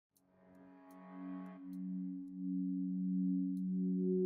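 A granular glass synth preset ringing out in sustained pure, glassy tones, a soft bright shimmer fading in over a steady low drone that swells gradually and holds, alone without voices.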